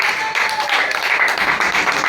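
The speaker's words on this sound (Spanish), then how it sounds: "Den aplausos al Rey de Gloria." A church congregation applauds in worship, a dense, continuous wash of clapping filling the room, with voices mixed in throughout.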